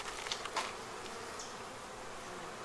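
Honey bees buzzing softly from a small, light winter hive cluster in poor condition, a faint steady hum with a few brief louder passes of single bees near the opening.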